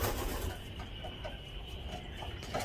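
Racing pigeons in a loft cooing softly on a sunny day, faint repeated low coos spread across the clip over a breezy background, no talk.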